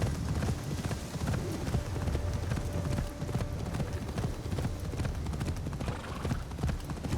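Hooves of a horse in Assassin's Creed Shadows clip-clop in a steady walking rhythm, close and fairly loud, with occasional faint snorts and no talking over them.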